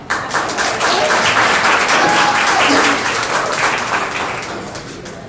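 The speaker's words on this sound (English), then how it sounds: "Let's put our hands together one more time for Pastor C" A crowd at a relationships Q&A event applauds a pastor, loud, full clapping that swells and holds steady before gradually thinning out.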